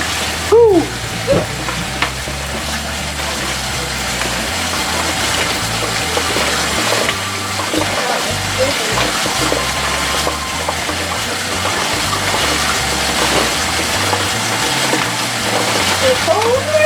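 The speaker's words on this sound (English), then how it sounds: "Rinse it off in cold water." Cooked shell pasta rinsed under cold running tap water, a steady broadband rush that stays close and continuous, with a brief voice near the start.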